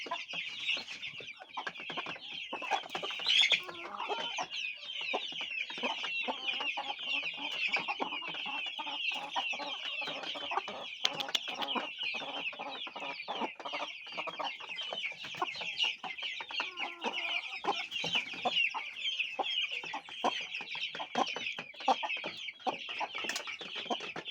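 Many chickens, including Arab chickens, cluck and chatter continuously, a busy, dense flock sound that stays steady throughout with no voices.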